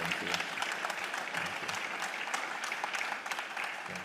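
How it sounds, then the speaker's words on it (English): Audience applause at a keynote and fireside chat event in Ghana, a steady dense clapping from a crowd filling the room without a break, fairly loud and close. "he deserves an applause for this."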